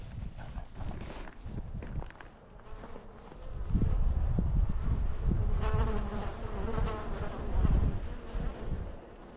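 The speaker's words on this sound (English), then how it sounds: "This pillar here has turned into a beehive, it looks like." Bees swarming around a hive built inside a pillar near railroad tracks, a continuous buzzing drone that swells louder midway, with some footsteps and movement nearby.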